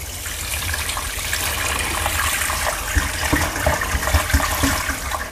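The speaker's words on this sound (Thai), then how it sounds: "เปิดน้ำล้างได้เลยครับ" Tap water gushes steadily to rinse palm fruit pulp for Thai palm cake, with light splashing and sink sounds building slightly toward the end. No one speaks.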